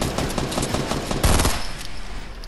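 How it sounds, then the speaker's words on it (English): Video game gunfire in a musket-era battle: a loud, close rattle of rapid shots that swells into a dense volley and then trails off. "I'm getting shot at"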